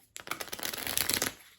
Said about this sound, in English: So all these tactics cards, though, we'll mix them up.